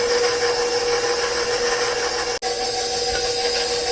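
Electric ice cream maker on low speed churning a saffron ice cream base with its dasher, a steady loud motorized whir and grinding hum, broken once by a very brief dropout.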